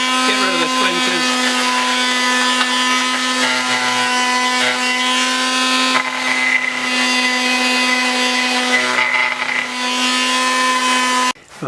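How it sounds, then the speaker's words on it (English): Wood router cutting a knife slot in a wooden kitchen knife block, a loud steady high-pitched whine held throughout with slight shifts in load, ending abruptly, while a voice talks over it. "Trying to give you a slightly better shot of the router here. I'm doing the smaller knife slot."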